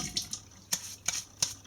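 Water splashing at a sink as someone rinses their face, heard as several short, close splashes spaced apart in a quiet room.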